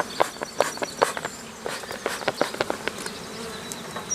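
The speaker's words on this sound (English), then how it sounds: "these bees are really, really active" Honey bees buzzing busily at an open hive during requeening in early summer, a dense continuous drone close by with sharper passes of individual bees and faint handling noises, no talk.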